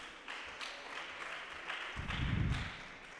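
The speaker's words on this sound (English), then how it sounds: "Round of applause for our panelists." An audience at a teen global AI conference applauds its panelists, with soft, faint clapping that swells slightly toward the end and sits under low room noise.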